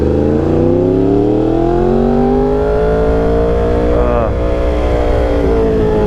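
A Yamaha R1 engine drones loudly and steadily with rising harmonic tones as it revs up, a continuous close-up exhaust rumble filling the whole stretch.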